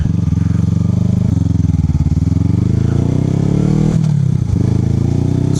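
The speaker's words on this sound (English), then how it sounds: "So easy to whip this bike around too like that." A 250cc starter motorcycle runs steadily and loud from start to finish, engine drone shifting pitch as the rider whips the small, light bike around, with a brief rev change near the end.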